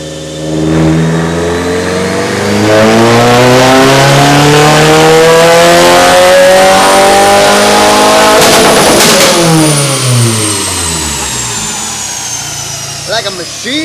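A 2022 Subaru WRX running on ethanol with a Perrin front-mount intercooler revs hard on a dyno, the loud engine note sweeping up steadily, peaking, then falling away with a few crackles at the end.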